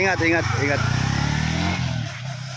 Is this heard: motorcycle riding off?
yes